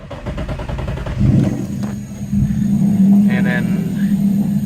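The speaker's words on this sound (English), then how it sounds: "at least I can turn on the car without having to put the gas on" A car engine idles steadily with the clutch pressed and no throttle, a close low rumble that thickens and grows louder after the first second, with talk partly over it.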